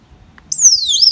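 Plug-in animal repeller for dogs and cats in its first sound mode, a sudden loud high-pitched electronic chirping sweep that starts after a quiet pause and repeats in descending glides.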